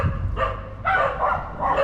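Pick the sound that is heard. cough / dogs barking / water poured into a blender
dogs barking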